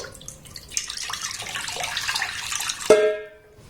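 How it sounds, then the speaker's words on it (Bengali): Thickened, boiled-down liquid milk pours steadily into a kadai already holding a little water, for milk-powder malai sandesh. A soft, continuous splashing lasts a few seconds and ends with a sharp metallic clink of the vessel. "ঘন করে জাল দিয়ে রাখা লিকুইড দুধ এখানে আমি দিয়ে দেবো"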